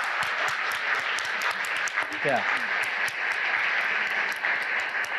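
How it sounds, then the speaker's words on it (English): Applause from a conference audience fills the room steadily and loudly throughout, with a voice briefly speaking over it partway through. "So can I ask people to give them a round of applause?"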